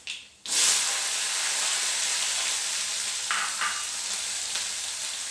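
Whole garlic cloves and five-spice panch phoran dropped into hot oil in a pan, a sudden loud sizzle after a brief quiet start, then a steady close frying hiss with a few faint stirring clicks.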